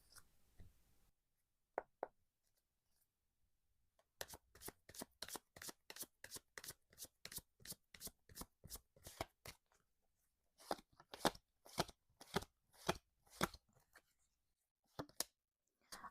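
Tarot cards are shuffled by hand, a run of quick crisp riffling snaps and taps in bursts, close and quiet with no talk.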